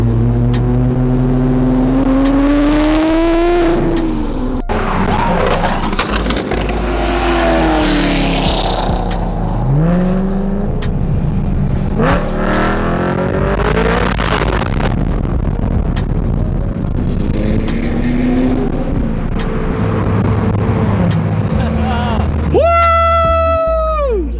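A BMW E90 M3's engine revs hard and drops back in repeated bursts, loud and close, with people talking and shouting over it throughout.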